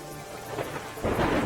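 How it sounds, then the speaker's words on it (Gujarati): Heavy monsoon downpour with rumbling thunder in Gujarat, a steady roar of rain that swells louder in the final half second, with no voices. "તાપીના ડોલવણમાં પણ વરસાદ પડ્યો."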